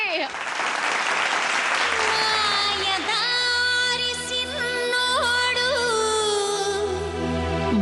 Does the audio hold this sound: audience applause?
yes